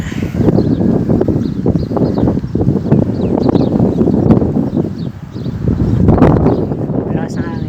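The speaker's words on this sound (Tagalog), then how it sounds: "Malakas ang hangin." Strong wind during a sandstorm in Oman roars steadily as a dense rushing gust noise against the microphone, loud and continuous, with faint background sounds underneath.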